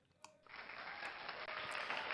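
A crowd-cheering sound effect in the Arkham Horror LCG card game, a burst of roaring cheers and applause that starts after a brief quiet tap and holds loud and steady to the end.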